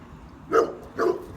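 A Chow Chow gives two short barks, close and fairly loud, with a brief pause between them and no talking.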